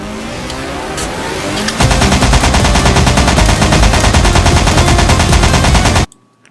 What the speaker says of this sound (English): And then the music comes back full force when Stanley gets out the machine gun.